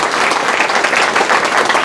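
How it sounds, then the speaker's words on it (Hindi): A crowd at a marketing seminar claps continuously, a loud, even, close-sounding round of applause with no pauses. "ताली नहीं बजाओगे?"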